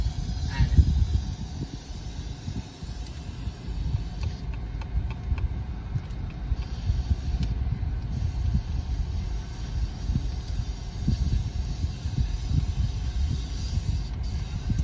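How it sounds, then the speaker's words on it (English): Compressed-air guns hissing inside an automated car wash in Katy, Texas, heard from within a car as a continuous broad rushing noise over low machinery rumble, with occasional brief bursts and no talking. "That's the sound of the little air guns that they're using."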